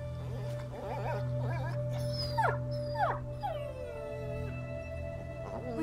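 A dog whimpers and yelps in A Plague Tale: Innocence, with several rising and falling high whines over a steady low game hum. A voice speaks briefly near the start.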